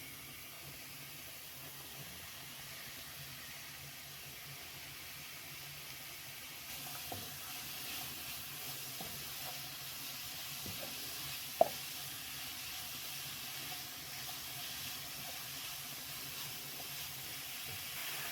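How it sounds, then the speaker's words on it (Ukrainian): Carrots and onion frying together in a pan give off a steady, soft sizzle with faint hiss, continuous throughout and joined by one or two small pops or clicks near the middle. "обжарюємо морку на сковородці разом з цибулею"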